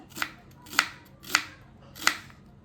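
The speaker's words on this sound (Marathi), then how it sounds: "तर आपल्याला कांदा चिरून घ्यायचा आहे। तर हे पहा, उभा कांदा चिरायचा आहे असा।" A knife chopping an onion lengthwise on a board, four crisp separate cuts about half a second apart, close and clear with no talk.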